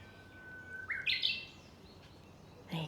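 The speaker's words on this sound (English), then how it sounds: "There's a beautiful bird here that sounds like the Australian whip bird." Outdoors among bamboo and trees in Japan, a bird likened to the Australian whipbird gives a long thin whistle that rises into a sharp whip-like crack, a single clear call, followed by a brief further chirp.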